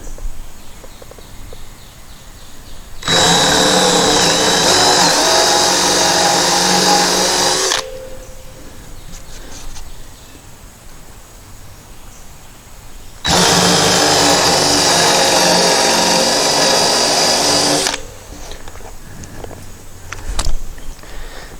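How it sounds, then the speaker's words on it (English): A power drill boring a 3/8-inch hole in wood for a backyard pavilion. It whines loudly and steadily in two separate runs of about five seconds each, with quiet pauses before, between and after. "Now we can go ahead and do our 3/8 hole and try to just keep it square."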